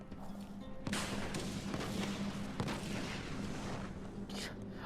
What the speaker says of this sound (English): All I hear is explosions.